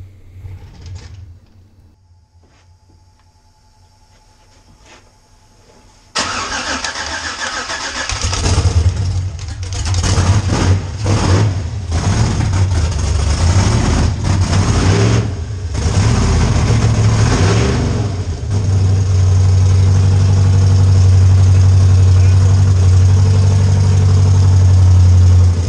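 A car with an LS engine swap starts up: after a quiet stretch of clicks, the engine cranks and catches loudly, then stumbles and revs before settling into a strong, steady idle close by, with some voices underneath.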